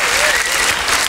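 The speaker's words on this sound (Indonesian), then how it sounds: "beri tepuk tangan yang meriah lagi untuk Jaromir Sehat dan Pak Valenciadi" Audience applause rings out at a technical talk on water-powered alternative energy for MikroTik networking gear, a loud, dense, steady wash of clapping with faint voices mixed in.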